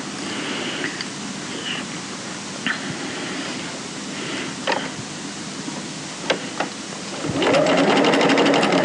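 A sewing machine stitches fabric along a continuous strip, a close steady whirring hum with a few small clicks, then speeding up into a louder, faster run near the end; no talk.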